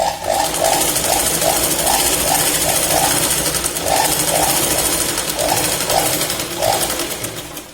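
A sewing machine stitches a katori blouse in quick repeated bursts, its close, loud mechanical chatter stopping and starting in short runs with no talk over it.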